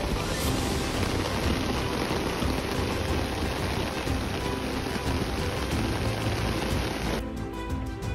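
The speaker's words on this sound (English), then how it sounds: "Started to rain." Rain falling outside during a property clean-out, a dense, even hiss of drops pattering on surfaces that holds steady throughout, with a brief shift in texture near the end and no voices.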